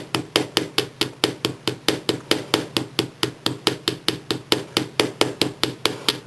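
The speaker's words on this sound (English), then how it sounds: "if you want to, get some nice hammer marks. Use the round part of your hammer." Wire for bead and wire napkin rings being hammered with the round face of a hammer, a steady, rapid series of close, sharp metallic taps, about three or four per second, with no voices.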